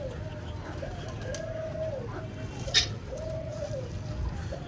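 Pigeons coo near a pigeon trap, several low rolling calls spaced a second or so apart over a steady background hum, with a brief sharper sound in the middle.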